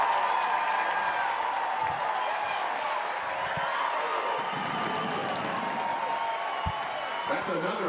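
Crowd noise at a Florida vs Florida State college softball game, a steady roar of cheering fans filling the stadium, with an announcer's voice running over it throughout.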